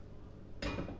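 A metal lid set onto a glass jar of cucumbers, one sharp close clink followed by a brief ringing rattle.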